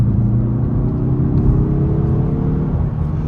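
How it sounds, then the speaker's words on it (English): A 2022 Mazda 3 Turbo Premium Plus sedan pulls hard in sport mode, its engine note a steady, loud, rising drone with rumbling undertones, heard from inside the cabin without any talk. "The acceleration, like I said, is strong, and it's mostly that torque you feel"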